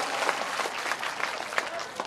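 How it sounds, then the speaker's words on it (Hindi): A crowd at a local village gathering claps in a brisk, uneven patter, moderately loud and steady, with voices mixed in underneath. "ताली तो बजा ही दो"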